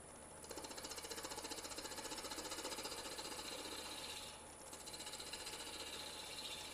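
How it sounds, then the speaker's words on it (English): A power sander works the punky, rotting wood of a wooden snowman, giving a fast, steady buzzing drone that runs almost without pause, briefly dipping once before resuming. "So now I'm going to have to sand that again."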